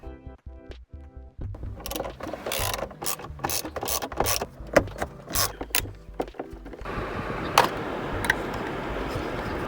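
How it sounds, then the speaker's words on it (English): A T20 Torx bit in a ratcheting driver backing out Torx screws above the rear-view mirror of a Mercedes W211 interior: bursts of quick, close mechanical ratchet clicks, then a steadier, denser whirring rattle near the end. "With a T20 Torx bit, I'm going to open the 3 Torx screws that were hidden under the rear view mirror assembly."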